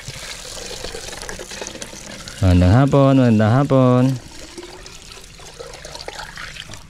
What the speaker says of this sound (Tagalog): Igib tayo ng ating iinumin.